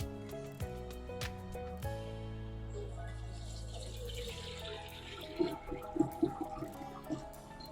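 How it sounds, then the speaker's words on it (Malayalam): Homemade pineapple wine is poured through a strainer into a vessel, making a steady, close stream of liquid that then breaks into scattered drips and splashes. "ഈ പാത്രത്തിലേക്കാണ് നമ്മൾ വൈൻ ഒഴിച്ചു കൊടുക്കുന്നത്."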